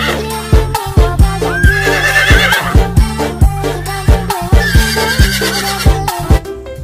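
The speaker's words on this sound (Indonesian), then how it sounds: "Wow, ternyata ini kuda putih teman-teman." A white horse gives loud, close whinnies and neighs over a steady rhythm of repeated thumps, with no speech.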